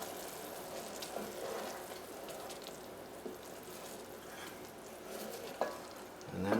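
Chocolate cake batter made with salted butter is stirred gently in a bowl, giving a soft, quiet wet scraping that continues throughout, with a couple of small knocks and a louder scrape at the end.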